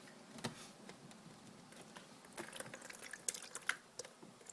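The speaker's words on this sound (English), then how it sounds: "It's dripping really bad, so Kevin's gonna open it up a little bit." Water leaking through a roof drips in scattered, irregular drops with small splashes, fairly faint against a quiet background.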